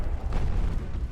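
Torpedo launchers blowing up aboard a warship in the naval game Ultimate Admiral Dreadnoughts, a loud, dense rumbling boom that fills the moment with low, sustained roar.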